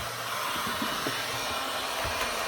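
DeWalt heat gun running on its high setting, a steady close-up blowing roar that holds evenly throughout with no talk.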